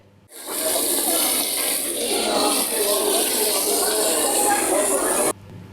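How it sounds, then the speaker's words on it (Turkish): Municipal cleaning crews wash the Isparta intercity bus station with soapy water, a steady loud rush of spraying water lasting about five seconds. "Şehirler arası otogarı sabunlu suyla yıkayan belediye ekipleri"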